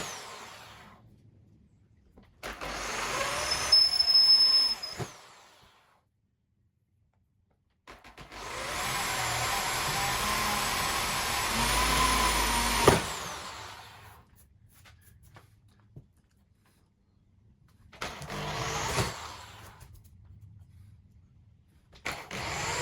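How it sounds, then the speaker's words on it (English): A power drill bores holes in a model railway baseboard for point motors, in three long whining runs, the middle one loudest and longest, separated by near-silent pauses. "I've got to drill some holes for all the different point motors."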